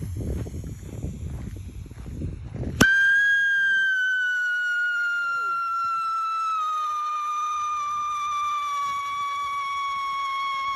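A loud, sustained whistle from a firework rocket cuts in abruptly after faint rustling, holding a high, slowly falling tone for several seconds.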